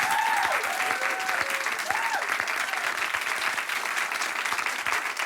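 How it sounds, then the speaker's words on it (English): A studio audience at a reunion show bursts into sustained applause, dense and steady throughout, while a faint voice with rising and falling tones slips through at the start. "Everybody give Sarah a round of applause for coming back."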